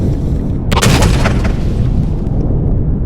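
Rail gun weapon in the space survival game Empyrion Galactic Survival fires once, a loud sharp crack with a booming blast that rings out and fades over a couple of seconds, heard alone without talk.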